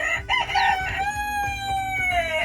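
A rooster crows nearby in a coop, a drawn-out cock-a-doodle-doo rising and then sliding down, with faint clucking from other fowl, including Japanese bantams, around it.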